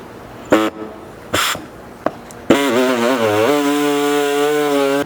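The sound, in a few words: cutoff disc cutting a 4Runner bumper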